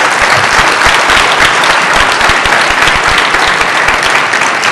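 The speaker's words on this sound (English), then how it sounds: "A round of applause for them." A concert audience at a Naperville North vocal music show applauds the tech crew with dense, loud, steady clapping from many hands, sustained without a break.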